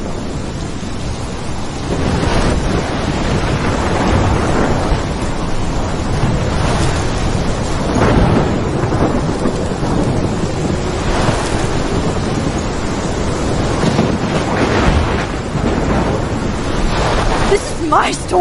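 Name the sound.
storm wind and ocean waves, from video game Life is Strange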